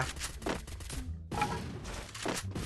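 Palafal gun firing in Free Fire: a few loud, heavy shots spaced by short gaps, each one followed by a dense burst of game noise, with no speech.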